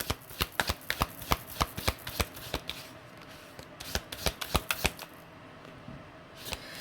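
Tarot cards are shuffled by hand at close range in quick bursts of crisp riffling snaps, followed by a quieter gap and a few final flicks.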